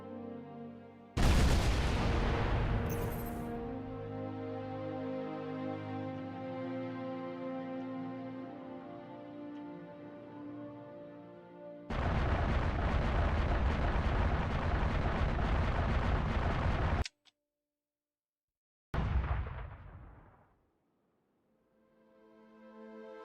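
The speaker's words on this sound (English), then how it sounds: "Turrets are working." Supercarrier turrets in Halo Reach Slipspace firing in loud, sustained booming barrages, a long roll followed by a second heavy burst, then a sharp cut and a fading tail.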